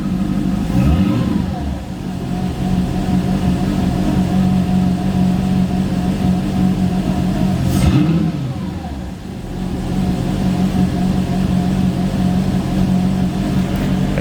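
A Mercedes C55 engine fitted with intake spacers idles steadily and loudly close by, with a brief revving swell near the middle and a constant low rumble throughout. A voice speaks over it.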